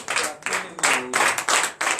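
A church congregation claps in acclamation during a Tuesday morning prayer service in Benin, with steady rhythmic group clapping in bursts over about two seconds and a few voices mixed in.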